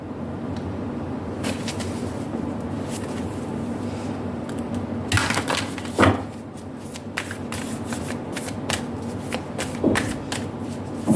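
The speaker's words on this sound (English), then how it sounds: "We're going to shuffle out all the oracle cards before we begin." Oracle cards are shuffled repeatedly with soft riffling and tapping, steady and close, over a low background hum.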